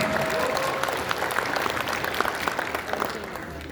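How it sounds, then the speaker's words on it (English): Applause from an anime convention audience for the Best in Show cosplay winners, a crisp burst of many hands clapping that holds steady and then thins slightly toward the end, with no voices on top. "try to give a round of applause for them one more time"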